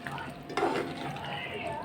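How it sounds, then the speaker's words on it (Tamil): Chicken kola urundai curry stirred in a pot after coriander goes in, a continuous soft scraping and bubbling simmer with a brief louder stir midway, steady and close. "கொத்தமல்லி சேர்த்துக்கலாம். சேர்த்துட்டு நல்லா கலந்து விட்டுக்கோங்க."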